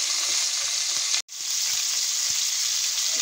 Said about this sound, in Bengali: এখন আমি গরম তেলের মধ্যে দিয়ে দেবো কেটে রাখা চিকেন বা চিকেনের টুকরোগুলো আমি ভালোভাবে ফ্রাই করে নেব